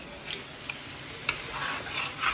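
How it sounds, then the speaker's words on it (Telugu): Crabs fry in a pan at home, giving a steady soft sizzle with a few sharp ticks and clinks of a utensil scattered through, close by with no voices. "చూడండి మా మామ్ ఎలా వండుతున్నారో. క్రాబ్స్ ఫ్రై అనమాట."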